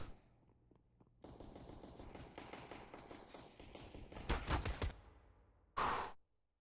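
Rapid automatic gunfire in Counter-Strike: Global Offensive on the Mirage map, a sustained burst of rattling shots with a sharper cluster near the end, then a brief loud final blast, with no talking.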